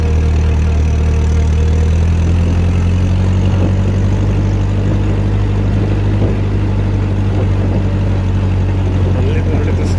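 A 1957 Ferguson 35 tractor running on TVO labours up a steep hill, its engine giving a steady, loud low drone with a constant throb that holds for the whole stretch.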